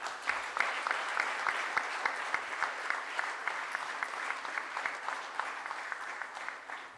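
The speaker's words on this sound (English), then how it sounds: "Big clap." Applause at a national management convention, a steady bed of many hands clapping heard from a distance, fairly faint, with a few sharper claps standing out at regular intervals.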